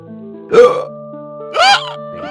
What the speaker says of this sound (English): So everybody's hiccuping.